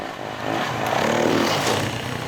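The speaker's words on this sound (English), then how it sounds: "The engine is surprisingly tractable at very low revs and effortlessly willing to give you more power" A 2018 Yamaha WR450F dirt bike engine revs up and eases off in a short, close burst, with a gritty rising drone and some clatter.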